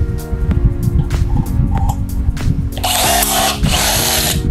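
A DeWalt DCF403NT 20V cordless brushless rivet tool setting a rivet: loud close motor whine rising in bursts, with a harsher high-pitched grinding stretch near the end, no voices.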